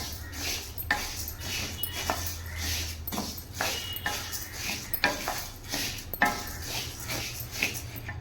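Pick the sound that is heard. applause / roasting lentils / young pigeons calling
roasting lentils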